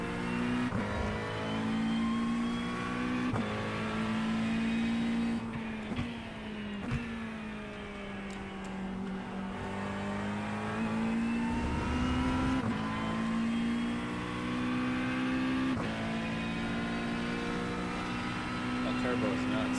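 A turbocharged race car engine in a driving video game drones steadily, rising and falling in pitch as it revs and shifts, with someone talking over it.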